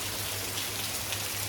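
Sunshower rain at a forest temple in Luang Prabang, Laos, a soft continuous patter of drops on surfaces over a faint low hum, with no voices.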